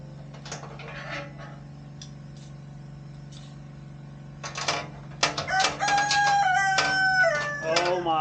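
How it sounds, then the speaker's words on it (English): Rooster crowing close by outdoors, with short calls early on and then a loud, drawn-out cock-a-doodle-doo over a constant low hum. "this rooster's going ape shit in my ear"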